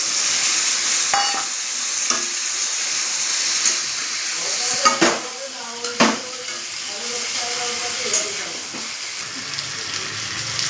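Ginger and green chilli paste fries in hot oil in a pan for a rohu fish curry, giving a steady close sizzle with occasional stirring scrapes and sharp utensil clinks against the pan.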